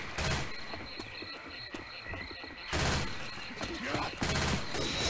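Gunfire from the zombie shooter Left 4 Dead 2, rapid bursts of shots crackling through the clip and swelling louder near the end, with players chattering faintly underneath.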